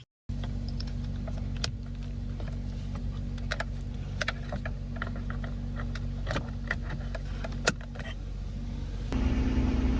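A Nissan Frontier pickup engine idles close by with a steady low hum after a brief start at the beginning, with scattered clicks and taps over it and a louder shift in the engine note near the end.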